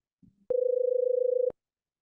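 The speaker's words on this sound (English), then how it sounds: "this amplitude modulation of a 500 Hertz carrier wave" A steady amplitude-modulated 500 Hz carrier tone plays alone for about one second, clean and constant with a fast pulsing flutter, following a brief faint murmur at the start.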